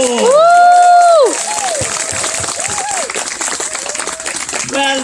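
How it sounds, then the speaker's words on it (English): An audience at a Marquis de Lafayette historical portrayal bursts into applause and cheering, opening with a loud whoop and shouts, then continuing as steady dense clapping with scattered voices. "let us applaud them all"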